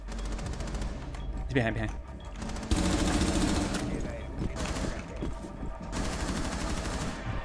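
Gunfire in Rainbow Six Siege, rapid automatic bursts of close, loud shots in dense rhythmic runs separated by short gaps, with someone talking briefly over the shooting.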